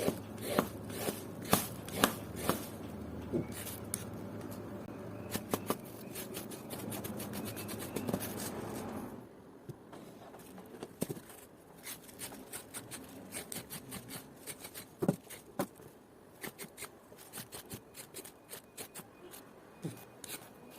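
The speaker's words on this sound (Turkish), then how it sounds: "Hepsini bu şekilde soyacağım." Vegetables being peeled with a knife for homemade pickles, a run of close, faint scraping and sharp cutting strokes with irregular clicks, denser early and sparser later.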